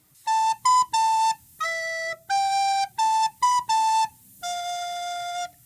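Recorder plays the second line of a song, a run of about ten clean, breathy tones in a steady rhythm, ending on a longer held low note, close and alone with no talk.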